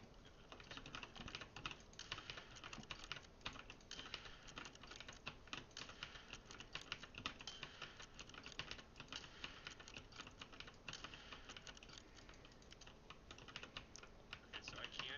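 Rapid, continuous keyboard typing clatters close by, keys tapping in irregular bursts throughout with little pause.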